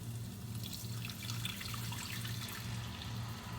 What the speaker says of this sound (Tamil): கொஞ்சமாக தண்ணி சேர்ப்போம், ஒரு 1/4 கப்பு மாதிரி.